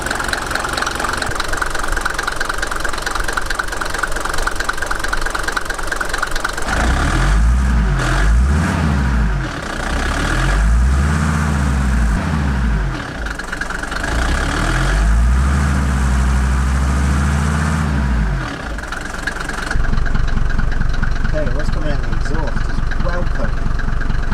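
The diesel engine of a Luton van idles close by with a loud, knocking rumble. Its pitch rises and falls in slow waves through the middle stretch before it settles back to a steady idle, with a voice talking over it at times.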